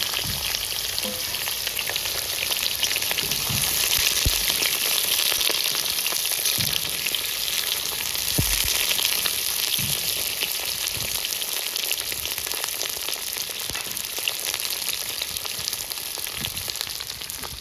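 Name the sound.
pointed gourd frying in oil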